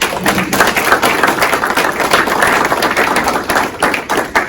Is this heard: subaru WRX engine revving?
no